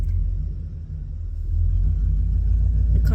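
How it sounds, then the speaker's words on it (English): A loud car passes close behind, its deep engine rumble holding steady and then swelling stronger in the second half, with no talking over it. "The car's loud behind me"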